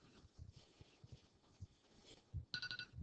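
A phone rings, a bright electronic ringtone bursting in near the end after a stretch of low, scattered knocks and faint background voices; the ring is loud and close.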